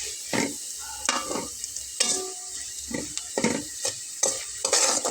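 Whole cumin seeds fry in oil over low heat with a soft, continuous crackle, while repeated scraping strokes of stirring in the pan come through close and clear.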